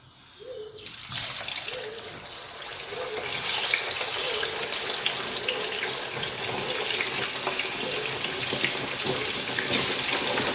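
Paneer cubes frying in hot oil for paneer butter masala, a steady loud broadband sizzle that starts abruptly after a second of quiet and holds constant throughout with no talking.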